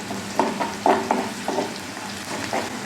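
Crushed ginger and garlic fry with onion browned deep red for a vegetable gravy, crackling in bursts of sizzle with a few spoon scrapes against the pan.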